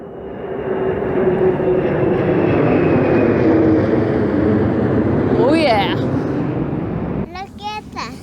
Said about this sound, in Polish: Raz w życiu mi się chyba udało nagrać ten samolot w miarę blisko, ale latają